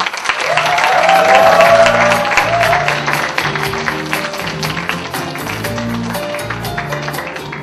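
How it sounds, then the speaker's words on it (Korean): A talk-concert audience hosted by a Korean university students' forum applauds loudly as a speaker is welcomed, the dense clapping mixed with background music tones and gradually easing over several seconds. "박종성 회장을 큰 박수로 맞이해 주시기 바랍니다."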